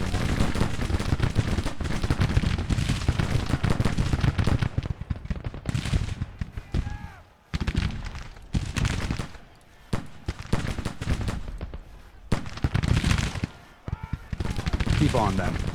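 Volleys of musket fire aimed at Civil War skirmishers in the strategy game Grand Tactician: The Civil War, dense crackling rounds in bursts with short lulls, steady and fairly loud, with someone talking over parts of it.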